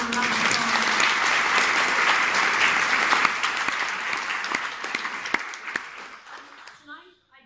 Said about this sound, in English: I want to give her a round of applause